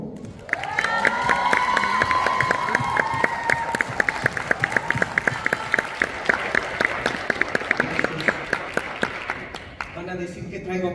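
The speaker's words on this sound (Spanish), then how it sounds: "Por favor, un aplauso" Sustained audience applause with cheering and crowd noise at a televised event honoring a singer, dense steady clapping throughout that thins near the end.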